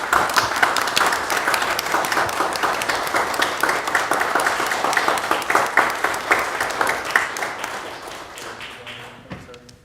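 An audience at a city council meeting claps in sustained, dense applause that holds steady for several seconds before gradually thinning out and fading.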